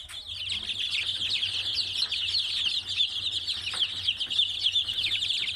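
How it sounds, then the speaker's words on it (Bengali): Many chickens clucking and chirping together, a busy, continuous chatter of poultry close by with a low background hum. "এই যে এই কালো মুরগিটা এটা হচ্ছে লাইজা"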